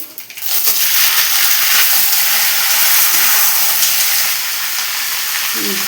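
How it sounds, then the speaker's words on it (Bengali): Ash gourd pieces dropped into hot oil with bay leaf and whole cumin in a pan, bursting into a loud, steady broadband sizzle that holds for several seconds, close to the pan. "এবার চাল কুমড়োটা দিয়ে দেব"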